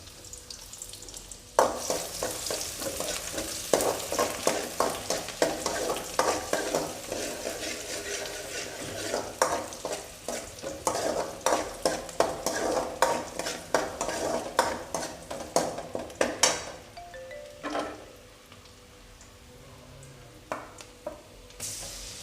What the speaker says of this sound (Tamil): நான் வெங்காயம் போடுறேன்.